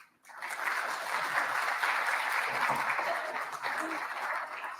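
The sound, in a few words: audience applause welcoming a speaker to the stage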